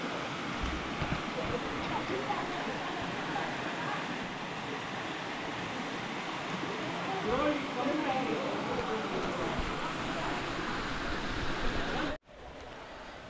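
Water pours steadily out of a pool near Moolakona waterfalls, a broad continuous rushing wash that cuts off briefly near the end before resuming more quietly.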